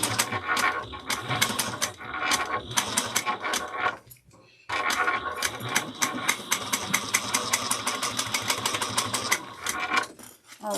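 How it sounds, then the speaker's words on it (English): A sewing machine stitches a 3/8-inch seam on quilted fabric, a close, rapid mechanical chatter broken by a short pause near the middle, then resuming in a long steady run with brief back stitching. "we're going to sew this at 3/8 of an inch"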